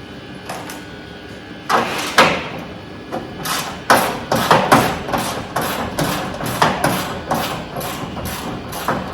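Custom mounts being hammered off a V8 Chevrolet S10 truck: a series of loud, close metallic blows, sparse at first, then a quicker, fairly steady pounding rhythm.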